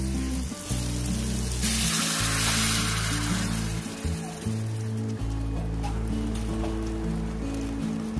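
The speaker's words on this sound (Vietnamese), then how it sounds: "sau khi cái nước lẩu của em nó sôi lên như vậy" Fish hotpot broth, about 1.2 to 1.5 litres, comes to a vigorous boil in a pot, giving a steady close bubbling and hissing that runs without pause under a low, wavering background hum.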